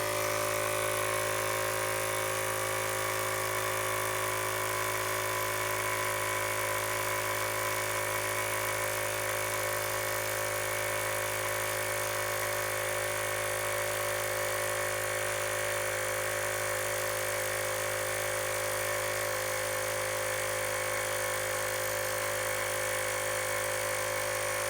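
A compact air compressor runs continuously while inflating a motorcycle tire, a loud, steady mechanical drone with a constant hum that holds unchanged throughout.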